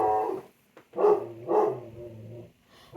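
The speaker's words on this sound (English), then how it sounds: "Sorry about my dog." A dog barks a few times nearby, deep harmonic woofs spaced about half a second apart, with a lower rumbling growl beneath.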